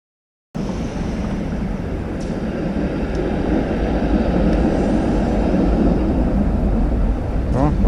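A Toronto streetcar rolls past on a city street, a steady broad rumble and hiss that swells gradually and stays loud to the end, with faint high squeals near the close.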